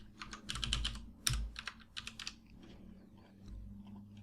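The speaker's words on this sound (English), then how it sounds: "so I will just type in a password here" Computer keyboard being typed on to enter a password, several quick bursts of soft clicky keystrokes with short pauses, close and fairly quiet, with no talking.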